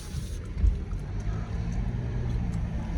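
An Alfa Romeo Giulia with remapped engine software drives through town, heard as a steady low engine rumble and road noise from inside the car.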